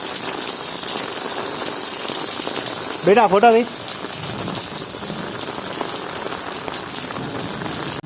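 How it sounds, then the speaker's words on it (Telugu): Steady rain falls and patters on surfaces in a constant hiss, with a voice speaking briefly in the middle. "తగ్గది వర్షం."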